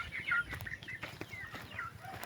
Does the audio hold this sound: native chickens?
yes